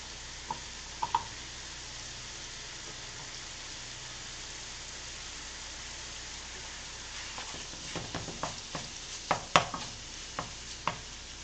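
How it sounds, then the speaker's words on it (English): Kale stems sizzle and crackle steadily in a hot frying pan, a constant hiss with scattered pops and stirring clicks growing busier toward the end, no voices. "So here's those kale stems I was talking about. Putting them in the pan."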